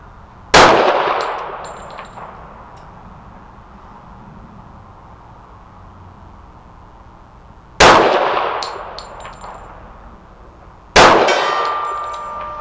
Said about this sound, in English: I got the gong.